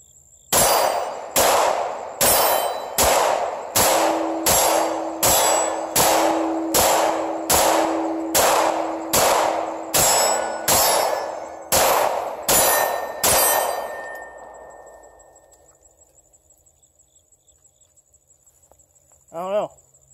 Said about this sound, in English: So I'm going to keep shooting this gun